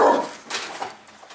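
A dog barks indoors at another dog it has spotted, a couple of short, fairly close barks and yips, then quieter follow-up sounds.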